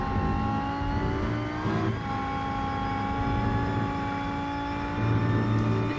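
A Rennsport video game race car engine drones at high revs, with rapid stuttering cuts and surges as traction control intervenes. Steady and loud, no voices.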